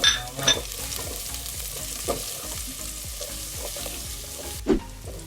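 Onion and then garlic sauté in a pan as a steady sizzle, with a few sharp stirring scrapes and clacks near the start and again toward the end, close by and with no talking.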